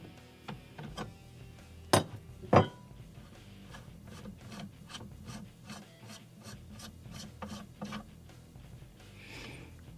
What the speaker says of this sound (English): We take our AR wrench once again